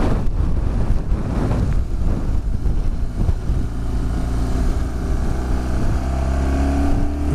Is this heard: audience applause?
no